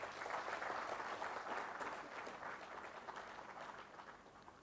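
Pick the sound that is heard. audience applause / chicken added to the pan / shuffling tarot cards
audience applause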